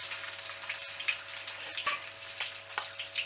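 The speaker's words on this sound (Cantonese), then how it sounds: "油滾啦，俾啲蒜頭爆香佢，跟住咧俾啲薑蓉爆香佢，" Garlic and then ginger paste hit hot oil in a wok with a steady crackling sizzle. Sharp pops and stirring clicks punctuate it, and there is no talking.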